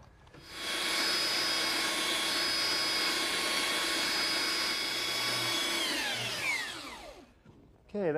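A high-pitched power tool, likely a router, runs steadily at close range while rounding the corners of a wooden tabletop, whining for several seconds before spinning down with a falling pitch at the end.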